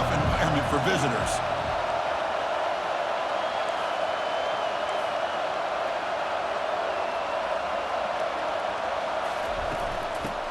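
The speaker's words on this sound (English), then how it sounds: "Listen to the crowd energy here in the early going." A stadium crowd in EA Sports College Football 25 keeps up a dense, continuous roar throughout, loud and steady, with a commentator's voice briefly audible at the start.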